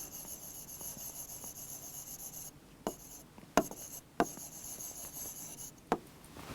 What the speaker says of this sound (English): So, let me write it like that.